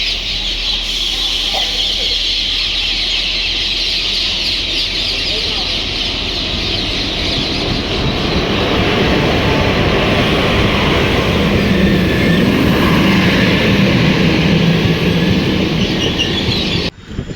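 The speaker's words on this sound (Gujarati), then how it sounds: "તો ફાઇનલી મિત્રો ટ્રેન આવી ગઈ છે બીજી." A second train pulls into Dhola Junction and comes to a halt, its rumble and rail noise loud and steady through a long stretch, with clanking wheels building near the end and voices talking faintly around it.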